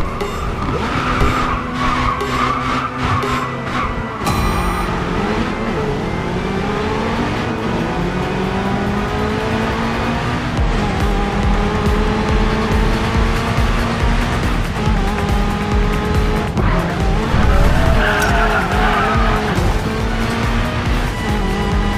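Race cars roar and squeal through a Racing Master game race, engines revving up and down at close range with repeated tire screeches and skids, loud and continuous.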